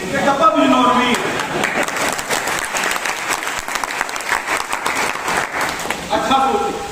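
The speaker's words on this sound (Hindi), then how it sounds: "फिर भी आप ताली बजा रहे हैं" A seated audience claps steadily at a talk in India, the dense applause holding loud and continuous throughout, with a voice speaking briefly at the start and end.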